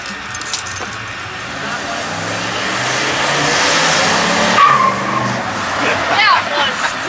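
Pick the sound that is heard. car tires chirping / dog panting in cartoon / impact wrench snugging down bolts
car tires chirping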